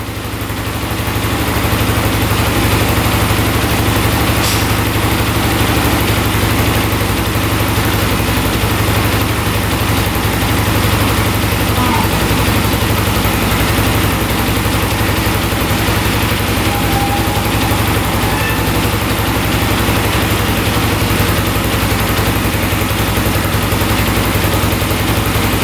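A quad ATV bought cheap for repair idles in a steady, loud, low rumble that holds constant throughout with no revving.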